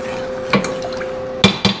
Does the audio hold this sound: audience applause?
no